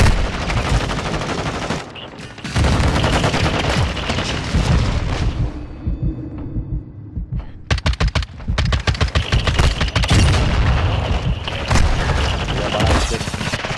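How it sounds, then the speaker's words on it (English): Heavy gunfire and booming blasts from a Modern Warfare 2 match, including a thrown-back grenade going off, ring out loud and near in dense bursts, briefly easing to quieter rumble midway before rapid shots resume. "I just threw the grenade back at him."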